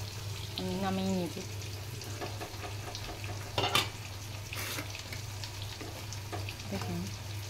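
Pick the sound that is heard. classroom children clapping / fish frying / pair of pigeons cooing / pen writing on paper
fish frying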